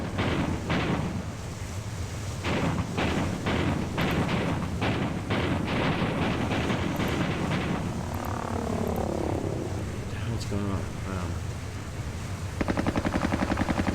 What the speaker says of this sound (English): I think we're firing at these planes.